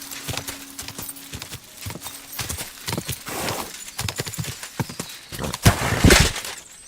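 A horse in Kingdom Come Deliverance 2 clatters along in irregular, brisk hoofbeats that grow busier and louder, with a sharp whinny bursting out near the end.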